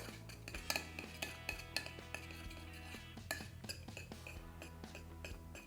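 A spoon mixing honey into oil in a small bowl, with repeated light metallic clinks and scrapes against the bowl, close up and fairly soft.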